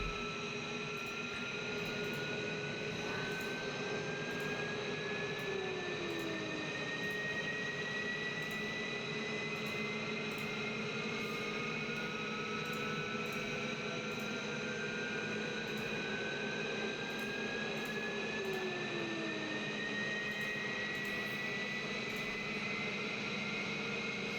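Twin F-15E Strike Eagle jet engines in DCS World, one at idle and one pushed to afterburner, give a steady loud whine with tones slowly rising and shifting, plus a continuous roar.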